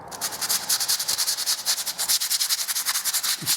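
Hand sanding of filler on walls and ceiling while preparing a room for painting, a rapid rhythmic back-and-forth rasping scratch, close and steady throughout.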